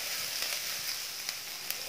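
Vegetables stir-fried over a high gas flame for street-style veg chowmein give a dense, loud, close sizzle, with a few quick clicks from tossing and stirring.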